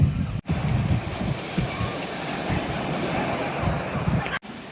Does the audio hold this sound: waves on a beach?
yes